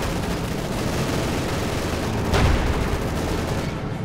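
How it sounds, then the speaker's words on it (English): Dense, continuous machine gun fire and battle noise roar without pause in the Company of Heroes 2 video game, with a heavier burst of impact midway through. "And lots of machine guns."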